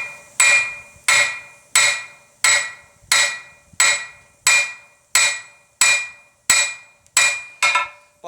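A hammer strikes hot steel on an anvil while forging a Suffolk latch handle blank, twelve loud ringing blows at a steady, even rhythm, each decaying quickly before the next.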